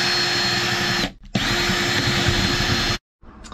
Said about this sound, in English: So I'm going to use a 3/8 bit because the screws I'm using are 5/16